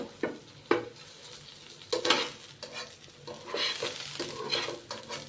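Brinjals frying crisp in a pan, a soft sizzle under repeated spatula scrapes and clinks against the metal, with a few sharp knocks early and a busier stretch of stirring toward the end.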